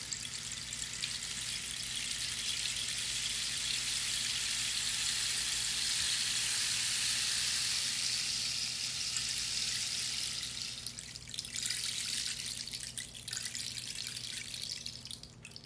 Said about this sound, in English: They're going to bounce off of each of those sticks inside, which again are just the thorns, and create a rain sound.